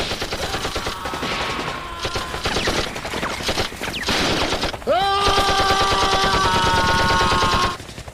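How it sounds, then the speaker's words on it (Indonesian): Soldiers fire on German troops in a World War II battle scene, producing rapid, loud machine-gun bursts that rattle almost continuously, while shouting voices and sustained tones rise over the gunfire partway through. "Knis yang baru tiba di sana langsung menembaki pasukan Jerman tersebut."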